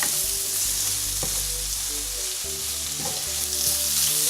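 Braised cod cooks in a pan with a steady, close sizzle and crackle of frying running throughout, with occasional soft stirring sounds.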